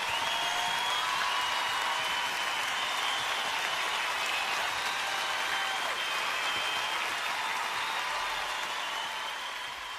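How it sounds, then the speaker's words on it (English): Fans applaud in a tribute to Andy Gibb: steady, dense clapping from a large crowd that holds for the whole stretch and tapers slightly at the end. "You know, all the applause."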